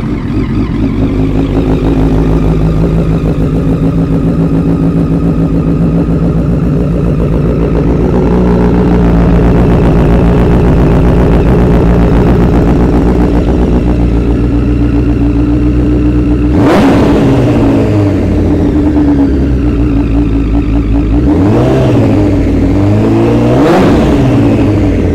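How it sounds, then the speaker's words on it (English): A 2010 Honda CBR1000RR sport motorcycle engine, with low miles, idles loud and close with a steady throb, then is blipped into sharp revs that rise and fall back several times near the end. "let's give it a little crank here"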